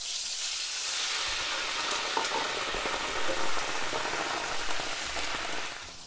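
About half a cup of white wine hits a hot pan after fish has been cooked in oil, setting off a loud, steady sizzle that hisses on and slowly eases, no voices.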